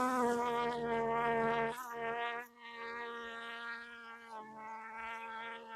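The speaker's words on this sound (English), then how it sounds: "the bees like to go into this fuzzy microphone cover and sting it" Honeybees buzz loudly right against a fuzzy microphone cover during a hive inspection, a steady droning hum with shifting pitch and a couple of brief breaks.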